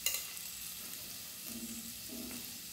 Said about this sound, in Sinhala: මිරිස් කුඩු එකතු කරලා කලවම් කරගමු